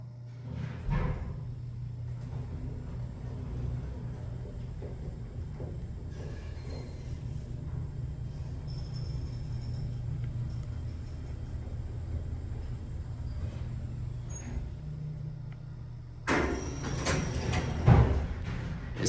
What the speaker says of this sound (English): Listen to this motor.